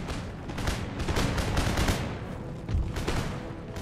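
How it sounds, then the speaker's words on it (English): Musket volley fire in Empire: Total War, a continuous rolling crackle of many muskets discharging together, loud and dense throughout without speech. "drawing a lot of musket fire from my men"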